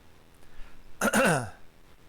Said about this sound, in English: I gotta stop clearing my throat when I'm doing these things.